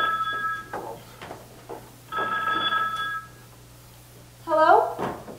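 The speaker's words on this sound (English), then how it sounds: "Phone!" A telephone bell rings in a house, two bursts of ringing with a pause between them, then a voice calls out; a steady low hum runs underneath.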